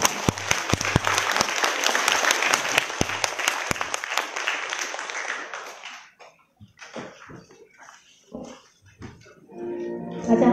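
An audience at an indoor sharing event claps loudly and densely to welcome performers, the applause tapering after several seconds into scattered claps and a few voices talking.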